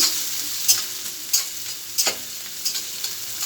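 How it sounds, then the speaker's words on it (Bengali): Singara filling with chopped onion and chilli being stirred in a hot pan: a continuous sizzle broken by repeated scraping strokes of a spatula, close and clear with no voices. "আর লঙ্কা কুচি একসঙ্গে দিয়ে দেবো। আর একবার নেড়ে দেবো বন্ধুরা।"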